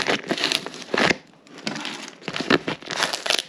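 Heavily wrapped parcel packaging from an online purchase is unwrapped by hand, loud close crinkling and crumpling in repeated bursts with a short quieter pause midway.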